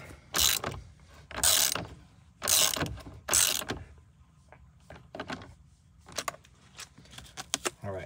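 A ratchet tightens the steering wheel nut on a 2015 Ford F150 during a Raptor steering wheel install, with four loud bursts of rapid clicking followed by shorter, quieter ratcheting strokes and light clinks.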